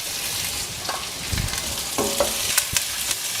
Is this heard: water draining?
no